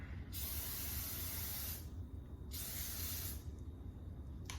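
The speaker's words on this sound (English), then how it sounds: "I'm using a butter flavored spray just because there's a lot of butter in my crust" Butter-flavored cooking spray hisses from a can onto a cake pan in two long bursts with a short pause between, close and steady over low room hum.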